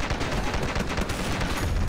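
Rapid gunfire in the video game Dead Ahead: Zombie Warfare rattles continuously, dense overlapping bursts of shots, loud and close, with no voices.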